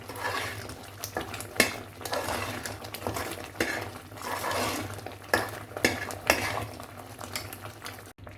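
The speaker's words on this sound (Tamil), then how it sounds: "இந்த மாதிரி நுரைச்சி வரும்போது நம்ம வந்து கிண்டி கொடுத்துக்கிட்டே இருக்கணும்." Coconut burfi mixture of grated coconut and sugar frothing in a pan as a utensil stirs and scrapes it steadily, with repeated metallic clinks against the pan over a low bubbling hiss and no talking.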